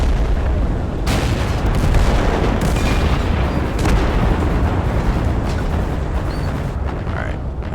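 Artillery fire in the war game Total Conflict: Resistance, a dense, loud roar of battle with repeated heavy booming blasts throughout, plus a few sharper cracks, with no talk.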